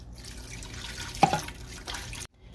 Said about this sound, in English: They say put about a cup of water in here.